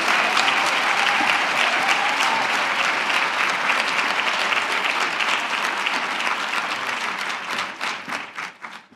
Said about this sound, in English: giving all of our guests much love, a warm welcome, and a huge round of applause as they come to the stage